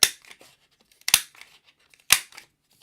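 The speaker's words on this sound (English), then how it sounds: "I have a circle punch, and I'm just going to cut out" A paper circle punch cuts out circles from cardstock in three sharp, crisp clacks about a second apart, each trailed by small rustles and clicks, close up and with no talking.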